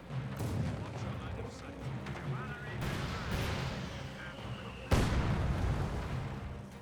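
Mortar and artillery fire in Company of Heroes 2, a steady din of distant thuds and bursts with one sharp, loud impact near the end, and voices audible amid the battle.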